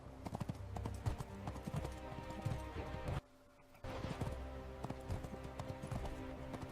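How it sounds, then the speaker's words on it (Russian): A galloping horse in an AI-generated music video scene, its hooves clip-clopping in a fast, steady rhythm, close and loud, dropping out briefly for about half a second midway before resuming. "Тут, конечно, немножко смешно, да, как лошадь уже скачет. Это такой галоп."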